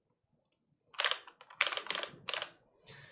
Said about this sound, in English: I'm typing on a solenoid keyboard